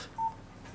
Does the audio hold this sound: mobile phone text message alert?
yes